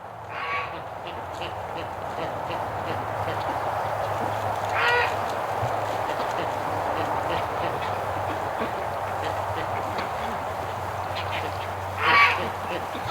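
Ducks quacking outdoors in winter among slushy, icy mud, with geese nearby; two short, fairly close quack bursts rise over a steady low background hum.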